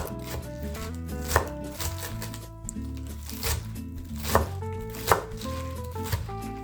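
Knife chopping spinach stems finely on a cutting board, steady rapid taps with a few sharper accented strikes, close and clear over a faint musical background.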